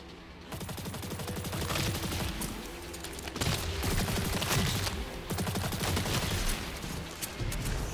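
Destiny 2 weapons fire continuously at yellow sacks, a dense stream of rapid shots at moderate volume with a couple of heavier surges, no voices.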